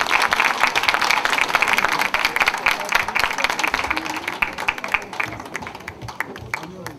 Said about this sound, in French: je vous demandais d'applaudir très très fort la Côte d'Ivoire